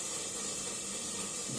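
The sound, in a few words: frying sizzle from dinner being cooked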